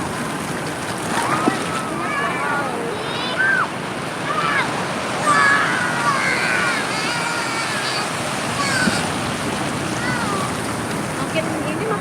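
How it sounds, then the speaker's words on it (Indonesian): Ocean surf breaks and washes steadily along Sawarna beach in a continuous close roar, while people chat nearby over the churning water. "Makin ini makin gede ya ombaknya ya."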